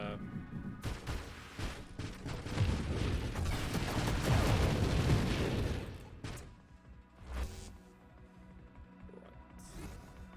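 Rapid chains of small spaceship explosions in the arcade space shooter Nova Drift crackle and boom in a dense, loud barrage that peaks mid-clip, then thins into scattered bursts over a low game drone.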